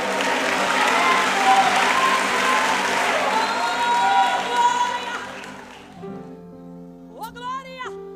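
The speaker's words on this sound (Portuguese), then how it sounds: "Você pode aplaudir ao nome do Senhor nessa tarde." A church congregation at a missions congress applauds loudly in a sustained burst for about six seconds, then the clapping fades and a tonal sung voice rises over a quieter background.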